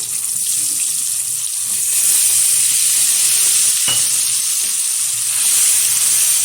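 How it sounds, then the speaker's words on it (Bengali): Paneer cubes seasoned with turmeric and salt frying in hot oil, a steady loud sizzle that runs unbroken throughout with one brief sharp tap partway through. "আগে থেকেই টুকরো করে রেখে দিয়েছি পনিরটা, সেটা সুন্দরভাবে ছেড়ে আমি ভেজে নেব।"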